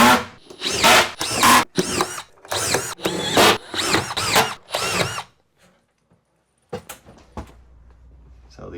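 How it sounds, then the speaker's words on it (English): Drywall screw gun driving screws into drywall, a series of sharp, loud high-pitched whirring bursts in quick succession at close range, followed by near silence and a few faint knocks. "I'm going to use my drywall gun and attach this drywall all the way around"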